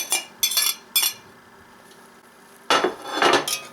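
Cilantro and jalapeno being stirred into a pot of Mexican rice, heard as a few separate scrapes and clinks of a utensil early on, a quiet pause, then a louder run of scraping near the end.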